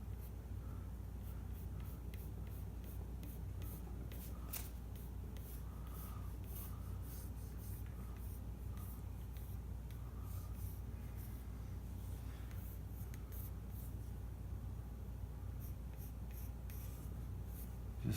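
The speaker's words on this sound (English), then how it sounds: "I'm sketching real light. I don't want to put a lot of pencil on the guitar" A pencil sketches lightly around the border of a guitar body, making soft, close scratching strokes in irregular short bursts over quiet room tone.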